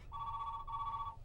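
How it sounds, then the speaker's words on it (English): A telephone rings with an incoming call, a steady electronic tone split into two bursts with a brief gap, fairly quiet over a low background hum. "We've got a phone call."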